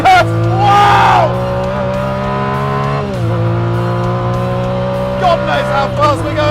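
A Ferrari engine revving hard to 8,500 RPM from inside the car, a loud, sustained rising howl with gear changes and pitch drops, heard alongside a man's excited speech.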